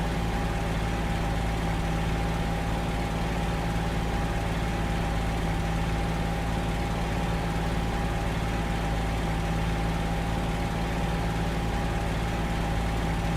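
A P-40E-1 fighter's engine runs at 1300 RPM while taxiing in the flight sim Il-2, a steady, continuous drone with a strong low hum and a constant tonal whine, unbroken and alone throughout.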